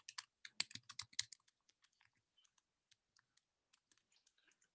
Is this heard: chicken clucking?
no